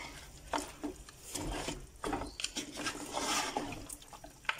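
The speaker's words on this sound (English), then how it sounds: "Give it a good stir." Grated tomatoes are stirred into a gravy in a pot, making wet sloshing, scraping strokes in an uneven rhythm, close and fairly loud, with no voices.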